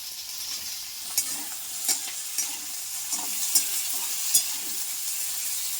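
Potatoes frying gently in a pan over low gas, a soft continuous sizzle with a few distinct stirring knocks and scrapes spaced through it, quiet and close.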